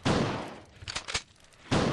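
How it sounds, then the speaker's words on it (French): Shotgun blasts in a Resident Evil drama album scene, two heavy booming shots bracketing a few sharper cracks and clatter between them, loud and close. "Des coups de feu tirés d'un fusil de chasse."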